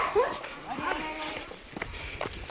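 A dog gives a few short yelps and barks outdoors, mixed with people talking nearby.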